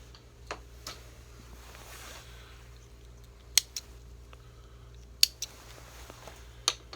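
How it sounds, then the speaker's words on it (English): Small scissors snip the tag ends off a freshly tied fishing line double rig, giving a few faint, sharp clicks spread over several seconds against a quiet hiss. "And just snip your tag ends away."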